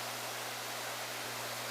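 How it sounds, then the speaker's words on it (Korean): Cheondang Waterfall in the Cheonbuldong Valley of Seoraksan pours with a steady, dense roar of rushing water, continuous and unbroken, with a low hum beneath and no voices. "천당폭포 앞에 도착하였습니다"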